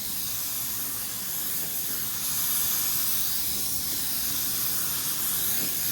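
A spray gun lays down matte clear coat in a steady, even hiss that holds at moderate level for several seconds without pause.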